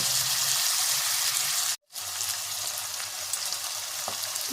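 Food fries in hot oil in a pot of Bengali-style mutton, making a steady close sizzle that stops for a moment and then resumes, with a soft clink near the end.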